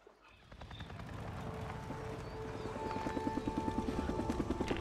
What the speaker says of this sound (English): Another near chopper.